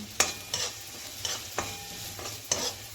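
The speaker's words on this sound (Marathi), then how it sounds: "मग त्याच्यावर ही हळद घालायची। हळद अशी परतून घेतली" Turmeric frying with onion and tomato in oil in a pan, with a few spaced spoon scrapes and stirring strokes over a soft sizzle, close and fairly quiet, no voices.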